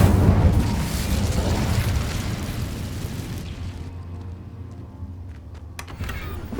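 Incendio fire spell cast in the Hogwarts Legacy video game, a loud roaring whoosh of flame that swells at once, then thins and fades over several seconds, leaving faint crackles and small pops at the end.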